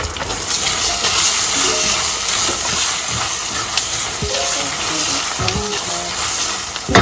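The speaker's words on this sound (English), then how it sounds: "Now I'm adding the leftover tomatoes that we have here." Tomatoes are added to onions already frying in a pan, giving a loud continuous sizzling hiss with scattered scrapes and clinks from stirring, close and unbroken.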